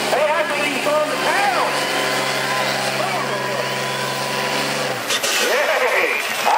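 A Cummins diesel truck engine roars loud and continuous during a truck pull, holding a steady drone that drops and changes after a shift, while an announcer talks over it.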